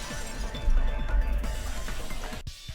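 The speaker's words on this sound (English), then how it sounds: "If it wasn't the window, then what broke to make that sound? A vase." A vase shatters in a Danganronpa 2 game sound effect, a loud crash followed by the ringing, tinkling scatter of breaking pieces that fades before ending abruptly.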